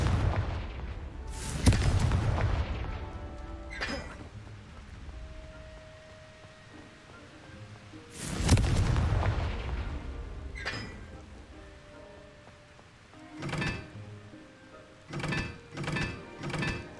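Confringo fire spells explode in Hogwarts Legacy, two heavy booming blasts with rumbling tails. Smaller sharp cracks and bursts follow toward the end.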